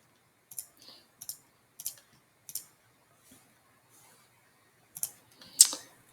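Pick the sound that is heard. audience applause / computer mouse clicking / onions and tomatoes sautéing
computer mouse clicking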